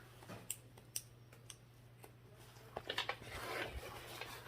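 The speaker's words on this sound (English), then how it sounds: "Make a little snip there." Scissors snipping a fabric seam allowance while sewing, a handful of small crisp cuts spaced about half a second apart, close but very faint over a low hum, then a short cluster of rustling snips.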